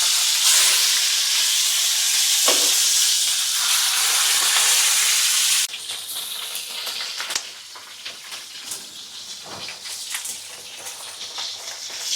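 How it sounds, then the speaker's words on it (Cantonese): Red and green chili peppers fry in a pan with a loud, hissing sizzle that settles into steady crackling and popping, and occasional clatters break through. "而家我攞呢個辣椒嚟煎一下佢"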